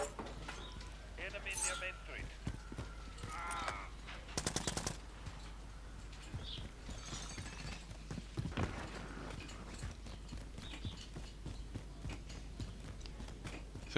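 Scattered gunfire in Modern Warfare on PS5 pops intermittently, with a few sharper bursts near the start and middle amid game noise while a player keeps talking throughout.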